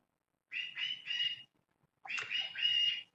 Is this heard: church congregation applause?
no